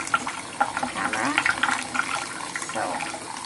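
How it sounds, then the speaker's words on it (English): Water running from a tap in a colon hydrotherapy clinic, a steady hiss and splash with small bubbly gurgles throughout, fairly close. "I'm gonna turn the water so careful with the camera."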